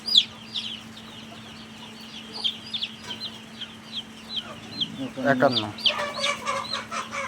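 Chickens cluck in quick, scattered calls around a farm, some near and some farther off, growing busier toward the end, with a low steady hum underneath.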